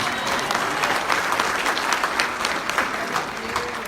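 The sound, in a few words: applause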